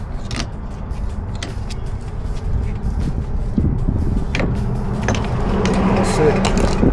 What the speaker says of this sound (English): adjust the brake tool, rotate it again